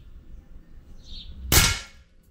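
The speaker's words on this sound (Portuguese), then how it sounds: "Último tiro com o Mamute Pro." A single sharp shot from a Mamute Pro PCP air rifle with its pellet striking a target, a loud metallic clang after a quiet lead-in with no speech.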